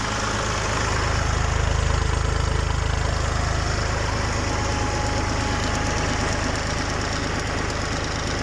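A heavy tractor engine roars steadily at full throttle driving a PTO generator, a loud continuous low rumble with rattling vibration and no pauses or speech.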